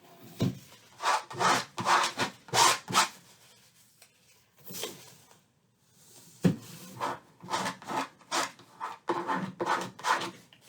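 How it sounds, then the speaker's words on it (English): Rhythmic scraping strokes as a tool drags Shiva Paint Stik oil paint off a surface, bursts of close, rasping rubs separated by short pauses, alone without talk. "Let's see if I can just scrape some of this off."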